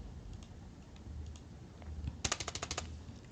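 Typing a router command on a computer keyboard: faint scattered key taps, then a quick close run of about eight clicks toward the end, with no talking.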